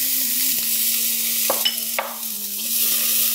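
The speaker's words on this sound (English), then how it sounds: "to the pan, I'm going to add in my white onion" White onion frying in olive oil in a pan, a strong steady sizzle close up with a couple of brief clinks from stirring, no voices.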